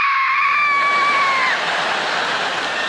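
A man's loud, sustained scream at a dinner table after biting into spicy curry chicken, a single high-pitched wail lasting about a second and a half before fading into a noisy room.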